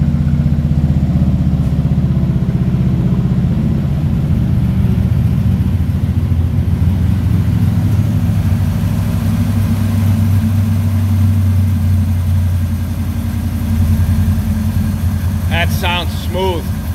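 A 1946 Ford pickup truck engine idling steadily, heard up close from the rear of the truck, a loud continuous low rumble throughout with faint voices near the end.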